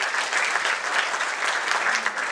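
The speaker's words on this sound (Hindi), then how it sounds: "तालियां होनी चाहिए" Audience applause at a community get-together honoring loan recipients who finished engineering degrees: dense, steady clapping from a crowd, close and continuous throughout without a break.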